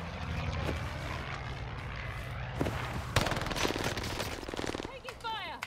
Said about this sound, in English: Airstrike! Target's marked! This is Phoenix 3. Strike him down.